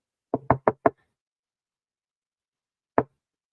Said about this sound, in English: The door appears to be boarded up, but he knocks on it,